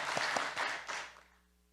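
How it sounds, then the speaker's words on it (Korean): A church congregation claps in praise during a Sunday service, a few distinct claps followed by a short burst of applause that quickly fades to quiet. "우리 하나님 앞에 박수로 한번 영광을 올려드리겠습니다"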